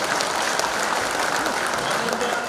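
An audience at a ceremonial gathering claps in sustained, dense applause throughout, loud and close, with no pause.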